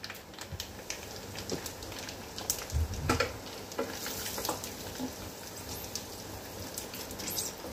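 Turmeric and asafoetida sizzling in hot tadka oil in an Indian kitchen, a quiet steady crackle with a few soft clicks and a brief louder pop partway through.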